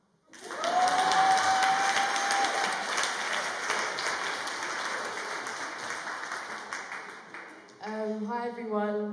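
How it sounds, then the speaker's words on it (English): Audience applause at an arts festival panel on women and diversity, loud and sustained, with a whistle-like tone early on, fading slightly before a brief musical note sounds near the end. "Yeah, clap."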